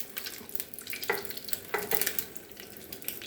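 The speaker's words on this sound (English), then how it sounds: "I like to brown them just a little bit" Meatballs browning lightly in a hot pan for homemade Italian sauce, a steady close sizzle with occasional stirring scrapes and bursts of spattering, no voices.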